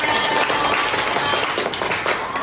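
Classroom of students applauding together at the start of a school science lesson, a loud, brisk burst of close clapping that stays dense throughout, with no voices over it.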